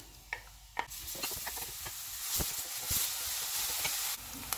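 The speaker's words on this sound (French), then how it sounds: "je vais faire revenir d'abord les oignons en premier avant de rajouter le reste" Onions sautéing in olive oil in a frying pan give a steady, close hiss and sizzle with a few faint clicks of a utensil, and no one speaks.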